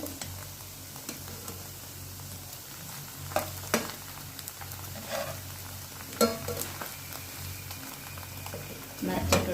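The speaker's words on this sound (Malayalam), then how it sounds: "ബ്രൗൺ കളറ് ആവുന്ന വരെ ഇത് വറക്കണം" Continuous oily sizzling of white milk bread slices frying in a pan, close up, with occasional scrapes and clinks of a utensil turning them.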